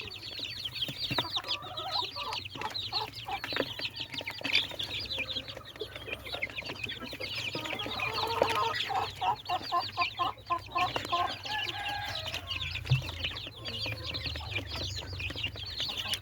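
Burmese fighting chickens cluck and call repeatedly in a farm setting, a busy mix of close clucks with occasional wing flapping and background bird sounds, no one speaking.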